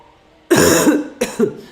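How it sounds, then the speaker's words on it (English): A man coughs close to the microphone, one harsh, drawn-out throaty cough followed by two shorter, quieter coughs. "You are going to get some coughing."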